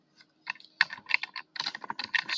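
Quick bursts of typing on a computer keyboard entering a terminal command in Lubuntu, close and crisp keystrokes in uneven clusters with short pauses between.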